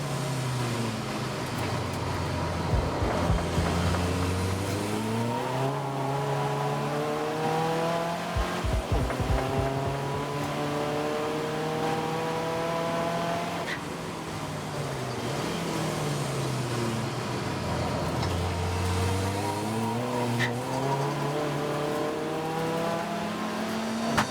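Race cars, an Audi TT among them, battle at close quarters at Anglesey, engines revving and rising through the gears as they pass, with brief bursts of tire squeal and a steady roar that holds through the whole stretch.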